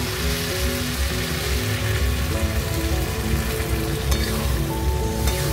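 Steady sizzling and crackle as a little water is added to spiced bitter gourd (karela) masala frying in oil, a dense continuous hiss with no talking.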